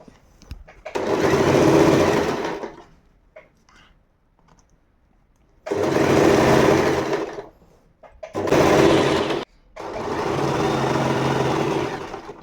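Usha electric sewing machine stitching a fall onto a saree, running in four close, loud bursts of rapid whirring separated by short pauses, no speech.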